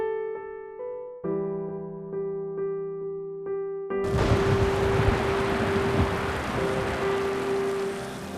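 After a few seconds of soft melodic tones, heavy rain abruptly starts as a dense, steady hiss while a single sustained tone lingers beneath it.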